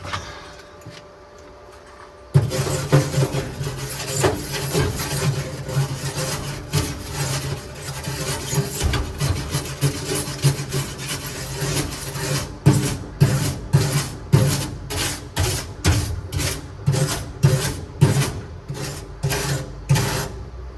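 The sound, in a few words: brush scrubbing and cleaning a weld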